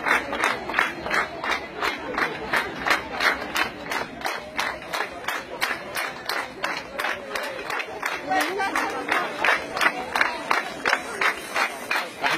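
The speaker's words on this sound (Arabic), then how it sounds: "كلهم يصفقوا كلهم يصفقوا" A crowd claps together in a steady rhythmic beat, repeated, even strikes, to draw a lost child's parents' attention; the clapping is loud and continuous with voices calling through the crowd.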